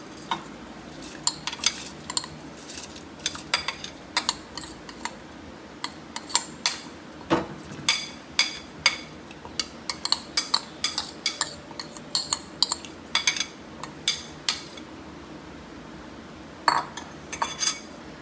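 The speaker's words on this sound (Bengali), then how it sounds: "এবার আমি এর মধ্যে লবণ দিচ্ছি তারপর ভেজানো চালটা দিলাম" Salt and soaked rice go into a pot of hot water on the stove, heard as a run of sharp metallic clinks and scrapes of a spoon against the pot, irregular and close, with a faint background hum.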